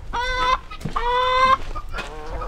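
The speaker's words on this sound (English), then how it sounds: "Can you hear that guinea? Aren't those things annoying?" A guinea fowl on a farm gives harsh, nasal, repeated cries in three bursts, fairly close and loud, with no voices over it.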